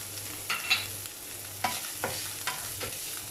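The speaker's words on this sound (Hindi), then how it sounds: "मिक्स कर लें अच्छे तरीके से" Chicken with garlic, ginger, salt and black pepper is stirred in a pan, giving a few scraping, clacking strokes over a soft background hiss, close and fairly quiet, with no one speaking.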